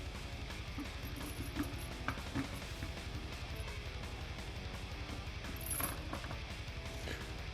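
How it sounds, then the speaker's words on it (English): A car jack cranks up under a custom vehicle chassis at a hot rod and stance show, giving a steady run of fast mechanical ratchet clicks over a low background rumble, with no talk. "Let me crank this guy up there a little bit, Chris."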